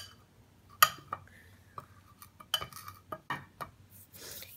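Ingredients for a homemade beauty scrub bar, including multani mitti, being mixed in a bowl, giving scattered clinks and scrapes of utensil against the bowl, quiet and close with gaps between strokes.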